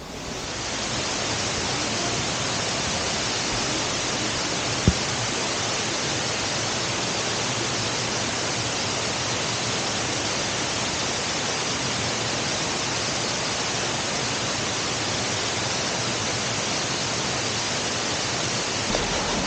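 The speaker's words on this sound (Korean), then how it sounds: "그러면 쌍폭포와 용추 폭포를 온몸으로 한번 느껴보도록 하겠습니다" Ssangpokpo and Yongchu waterfalls in the Dutasan mountain canyon roar as a dense, constant rush of falling water, loud and unchanging throughout.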